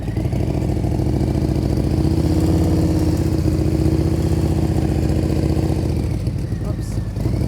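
A motorcycle held at steady revs with the throttle preloaded during slow-speed skills practice gives a loud, close, even engine drone that eases off slightly near the end.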